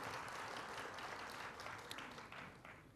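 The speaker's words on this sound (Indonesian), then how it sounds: "Kasih tepuk tangan yang meriah buat Tuhan." A church congregation claps during a sermon, a dense steady wash of applause lasting a few seconds at moderate level, tapering slightly at the close.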